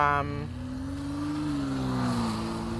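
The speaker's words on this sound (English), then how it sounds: "the car that just drove by made it sound like, ugh." A passing car, loud and close, with a rising then falling engine tone over a few seconds while people talk.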